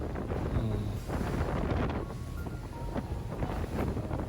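A boat pounds through fairly high waves off Pulau Tioman, with steady wind buffeting the microphone and constant rushing water and hull thumps throughout, loud and close.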